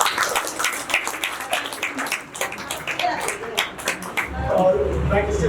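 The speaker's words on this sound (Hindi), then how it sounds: "रोशनी, जोरदार तालियां हो जाए" Scattered audience clapping at a Hindi stage play of Boodhi Kaki, uneven and moderately loud, with voices talking over it and a low rumble building near the end.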